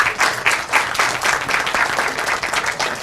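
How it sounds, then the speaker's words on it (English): Audience at an outdoor trail dedication ceremony applauding, a dense burst of hand clapping from a modest crowd, steady and fairly close for a few seconds. "Give them a big round of applause."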